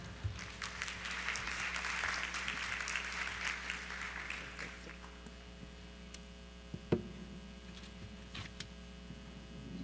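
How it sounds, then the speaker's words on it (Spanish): Applause from an audience at an expert panel on science in the technological era, moderate and somewhat distant, peaking early and dying away after a few seconds over a steady electrical hum, with a few knocks afterward. "Un fuerte aplauso."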